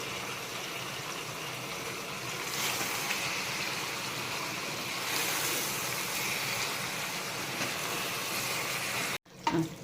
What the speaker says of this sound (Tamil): 1 கப்பு கொத்தமல்லி, 1 கப் புதினா, ரெண்டையும் சேர்த்து நல்லா வதக்கிடணும்